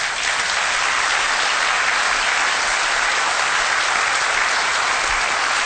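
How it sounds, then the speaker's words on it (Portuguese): A church congregation applauding during a Portuguese-language evangelical service, a steady dense wash of clapping that stays loud and even from start to finish with no talking over it. "Dá um aplauso agora."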